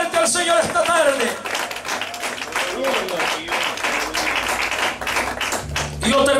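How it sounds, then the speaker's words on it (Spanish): Church congregation clapping at a Spanish-language service, dense rhythmic claps layered with voices and music, loud and sustained throughout. "Dale un aplauso fuerte al Señor esta tarde"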